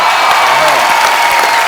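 Studio audience applause on a Hindi comedy talk show fills the moment with a steady, close, dense patter of clapping hands that holds at an even level throughout, without any clear speech above it.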